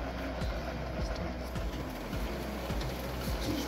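An HP LaserJet M605 mono laser printer at a school runs pages through, giving a steady low mechanical hum with faint regular ticks, fairly quiet and continuous with no talk.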